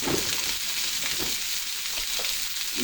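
Salted chuck eye roast searing in a hot pan, a loud, steady hiss of frying fat with a few brief crackles and pops, close and without speech.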